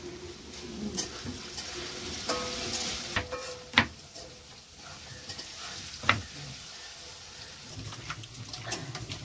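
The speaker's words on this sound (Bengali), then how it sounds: "লাল লাল করে রসুনটা ভেজে আলুটা ভেজে নিই" Garlic and potatoes fry in a pan with a quiet, steady sizzle, interrupted by a few sharp clicks and taps of a utensil against the pan.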